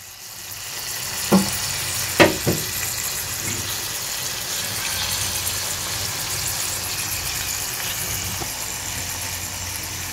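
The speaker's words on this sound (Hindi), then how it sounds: "ये फ्लेम को मैं स्लो बिल्कुल कर दूंगी और इससे पकाएंगे अब" Peri peri chicken in red sauce fries slowly over a low flame, a steady, close sizzle running throughout with a few brief knocks near the start.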